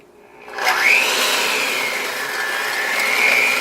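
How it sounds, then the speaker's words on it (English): An electric hand mixer whirs to life and runs steadily, creaming butter into vanilla cake batter with a continuous close whine. "So I'll grab my mixer and away we go."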